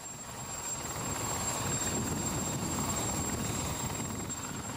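A Composite FX XE helicopter's steady engine and rotor roar, held at an even level throughout.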